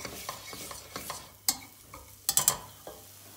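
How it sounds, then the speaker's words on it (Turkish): Dried mint and tomato paste stirred in a pot for tarhana soup, a spoon scraping through the thick mixture in quick close strokes, with a few sharper clinks against the metal and a faint sizzle underneath. "Şöyle bir daha karıştıralım."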